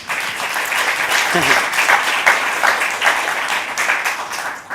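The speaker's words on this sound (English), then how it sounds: "Let's give them a round of applause to encourage them." An audience at a climate and development finance panel event applauds the panelists, a steady, moderately loud wash of clapping lasting several seconds, with some talk underneath.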